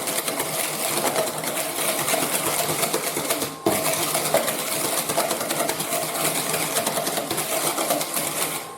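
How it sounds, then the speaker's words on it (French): Eggs and sugar whisked hard in a bowl, a fast, steady rattle and clatter of the whisk against the bowl, close and continuous with no talking. "Il faut fouetter énergétiquement."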